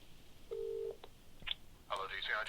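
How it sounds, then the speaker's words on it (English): Automatic phone dialing in the video game Contradiction: a steady tone followed by a few quick dial beeps, faint and close, ending with a burst of game voice talking. "Hey, automatic phone dialing."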